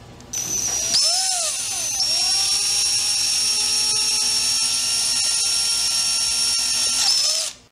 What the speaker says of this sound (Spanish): El sensor está en línea con un destornillador eléctrico monitoreando el torque ejercido.